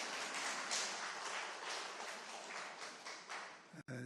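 Clapping from a church congregation at a Korean Sunday service, a dense, steady wash of many hands heard faintly at a distance for a few seconds, ending with a short knock.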